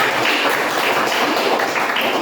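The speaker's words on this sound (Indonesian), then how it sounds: "Tepuk tangan." A classroom of pupils clapping their hands together, a steady dense patter of many hands at close range lasting the whole moment, with no talk over it.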